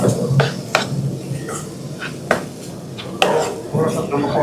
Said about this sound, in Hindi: अब इसमें टमाटर डाल दें।